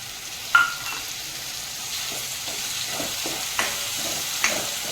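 Onion puree for pav bhaji sizzles loudly in a hot pan, a steady hiss broken by a few sharp pops and scraping stirs.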